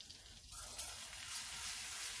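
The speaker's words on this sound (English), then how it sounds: "now we're going to add the flour to our butter to make our roux" Flour dropped into hot melted butter for a roux, with a soft hiss that swells into a steady, fairly quiet sizzle after a short pause.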